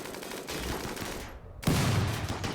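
Gunfire in RimWorld crackles in dense bursts, a stretch of rapid shots, a brief lull, then a louder volley.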